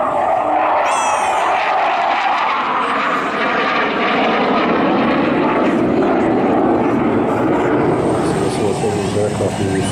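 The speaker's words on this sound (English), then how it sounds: "Aircraft will be flying during the training." Aircraft engine noise at the Wings Over the Illawarra 2018 air show, a steady loud drone with propeller character running throughout alongside continuous commentary and crowd sound.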